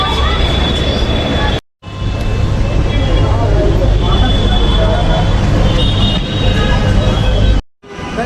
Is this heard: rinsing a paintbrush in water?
no